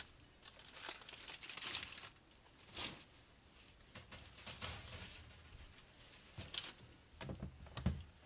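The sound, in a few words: unwrapping smoked ribs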